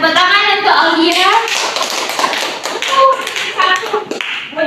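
Students in a classroom clap briefly for a classmate after her presentation, a few scattered claps close by while children's and a teacher's voices talk over them.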